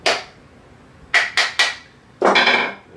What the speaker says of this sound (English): a little light tap